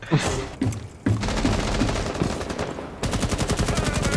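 Rapid automatic gunfire from the tactical shooter Rainbow Six Siege, loud and close, with dense bursts of shots running nearly continuously and a sharper, faster volley near the end.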